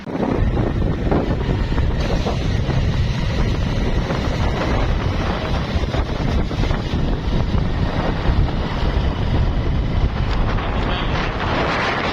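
Steady, loud wind gusting across the microphone in an open park near the Wagah border in Lahore, a constant broadband rush with no pauses and no talk.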